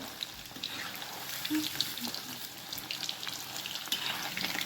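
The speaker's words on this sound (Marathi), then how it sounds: "आता हे छानपैकी आपण एकदम मीडियम फ्लेमवर तळून घेऊया" Chicken 65 pieces deep frying in oil on a medium flame, giving a steady, moderate bubbling hiss with small crackles and pops, close by and without talk.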